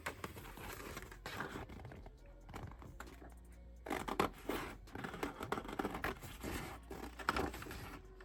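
Scissors snip through paper pieces for a gothic waterfall folio craft, giving quiet irregular crisp cuts and rustling in close succession with brief pauses, no talking.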